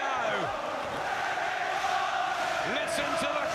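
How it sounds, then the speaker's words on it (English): Crowd at a Martinez versus Burns boxing match in the final round, a continuous roar of cheering and chanting voices with occasional rising shouts, steady and loud throughout. "Listen to the crowd."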